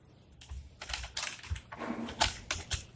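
Code being typed on a computer keyboard: bursts of close, crisp key clicks in an uneven rhythm, with no voices.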